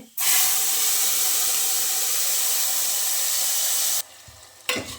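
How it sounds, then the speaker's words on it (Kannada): Ground garlic and onion paste with cumin hits hot oil for a village-style fish sambar, starting as a sudden loud hissing sizzle that holds steady for about four seconds, then cuts off into a quieter sizzle with brief stirring. "ಇದು ಒಂದು ಎರಡು ನಿಮಿಷ ಈ ಥರ ಫ್ರೈ ಆಗ್ಲಿಕ್ಕೆ ಬಿಡಬೇಕು"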